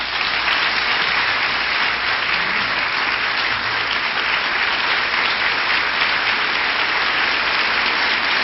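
An audience applauds Margaret Thatcher after her speech, a dense, loud, sustained wash of clapping that holds steady without letup.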